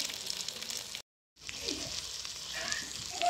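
Fish in a small amount of ghee sizzles softly in a pan, broken by a brief moment of silence as it is turned over before the quiet frying hiss resumes.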